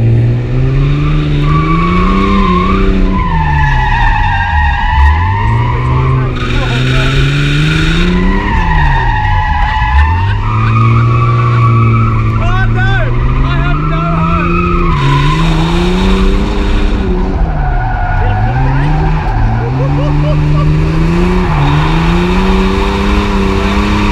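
A drifting car with standard steering lock screams its tyres in long, loud, wavering squeals that rise and dip in pitch, with the engine revving beneath in repeated sweeping runs, close and continuous.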